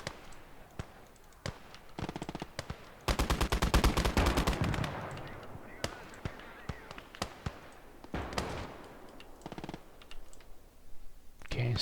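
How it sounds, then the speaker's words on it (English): Submachine-gun infantry fire in the strategy game Conquest Enhanced, with rapid bursts of clattering shots and scattered single pops, loud during a sustained volley in the middle and sparser before and after, against faint battle ambience. "SMG infantry doing its thing."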